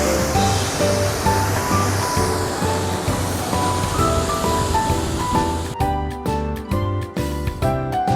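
Kedung Kayang waterfall in Magelang gives off a steady, dense roar of falling water, continuous and loud throughout, with music playing over it.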